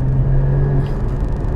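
A Porsche Cayman 981 GT4 with manual gearbox runs steadily on throttle, giving a loud, continuous low engine drone with a faint crackle near the middle, close and alone with no voices.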